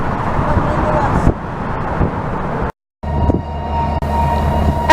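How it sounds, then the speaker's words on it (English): A Norfolk Southern freight train led by an SD60E locomotive switches cars in the Cincinnati rail yard, a loud rumbling engine and rolling cars with a brief dropout, and voices speaking over it. "we caught this Norfolk Southern train switching the Cincinnati yard, led by an SD60E rebuilt from an SD60"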